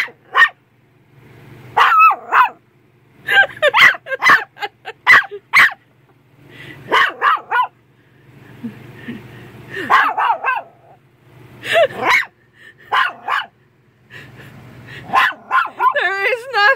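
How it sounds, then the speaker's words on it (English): A small dog barks repeatedly in sharp, high yips, close and loud, in irregular bursts with brief pauses between. "Yet he will not stop barking."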